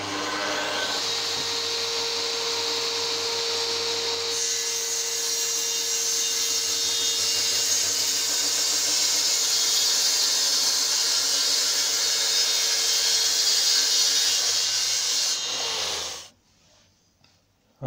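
A Makita router cuts sink and hob holes in a kitchen worktop with a half-inch bit, giving a loud steady whine with a hissing cut that runs for about sixteen seconds before it stops abruptly.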